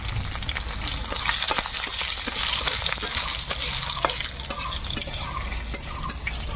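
Green chilies and nigella seeds spit and crackle in hot oil for a tempering, a steady close sizzle with stirring clinks throughout.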